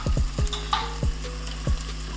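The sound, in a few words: tomato paste frying with onions and garlic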